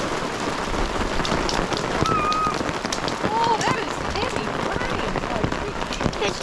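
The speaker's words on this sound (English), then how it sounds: "Big old fat rain. No, that's hail." Heavy rain mixed with hail drums hard and continuously on a camper trailer during an outback thunderstorm, a dense close roar with sharp pelting hits throughout, while people exclaim briefly over it.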